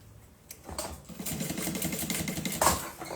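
A sewing machine stitches a short backstitch on fabric for a bag, giving a close, rapid mechanical chatter that lasts about two seconds after a few clicks.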